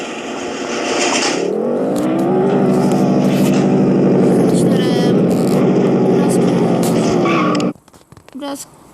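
Simulated car engine from the mobile driving game Extreme Car Driving: a loud, close, droning engine tone that climbs and holds as the car accelerates, then cuts off abruptly near the end, leaving brief faint sounds.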